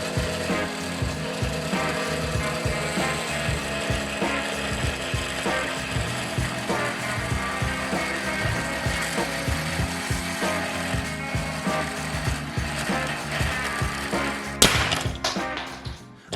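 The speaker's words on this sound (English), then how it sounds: "I don't have time to do a new steel chassis, so we're just going to have to cut some stuff out of HDPE." A power tool cuts HDPE plastic for a robot chassis, giving a sustained rough grinding, rasping chatter with a steady rhythm over about fourteen seconds, followed by a few sharp clacks as it stops.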